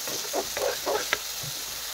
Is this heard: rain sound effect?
no